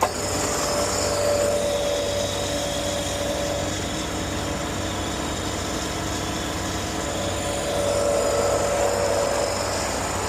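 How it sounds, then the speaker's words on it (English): Air compressor running steadily to pressurize a tanker for air offloading, a continuous broadband mechanical hum with a faint whine, close and even throughout with no talk. "we're gonna turn the compressor on to get some air flowing to the tank, pressure up the tank"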